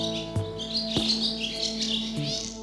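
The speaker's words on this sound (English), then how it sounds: "The family noticed the bird with the crooked leg sitting on the clothesline and singing to them." A swallow perched on a clothesline sings a run of bright chirps and tweets, with sharp calls standing out over a steady background hum and no talking.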